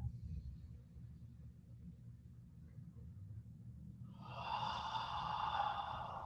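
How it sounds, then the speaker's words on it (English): A slow, deep breath drawn in during a stress-reset exercise, faint at first over a low rumble, then an audible airy inhale swelling near the end. "So I'm just gonna breathe into that."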